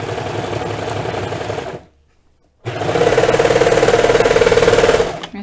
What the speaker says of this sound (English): My serger does not like those thicknesses.